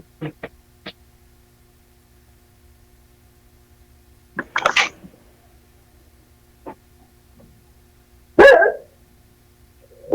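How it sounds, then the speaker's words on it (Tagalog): A dog barks in short, scattered bursts against a quiet background, with a couple of louder, closer barks near the end. "Nagalit na aso mo dyan. Akala niya may tao sa labas."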